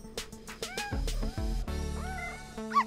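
Cartoon cats in a veterinary clinic waiting room meow and caterwaul in a string of short, close, loud calls, some rising and wavering, with a low rumbling background beneath them and no talking.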